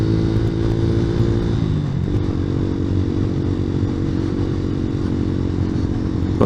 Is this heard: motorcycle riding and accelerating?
yes